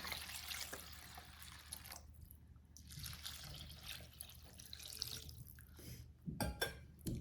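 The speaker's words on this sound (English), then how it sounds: "I'm gonna add some water." Water poured from a tap into a bowl holding a spiced mixture with turmeric and oil, a steady trickling and dripping stream running throughout, close and moderately loud, with a few sharper splashes near the end.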